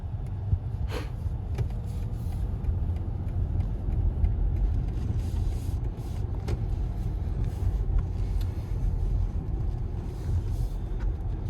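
A BMW iX electric car drives slowly through city blocks, giving a quiet, steady hum of tire and road noise from inside the cabin with faint clicks, no engine roar, continuous and low.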